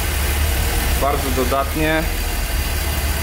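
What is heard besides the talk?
car engine running roughly on fuel fumes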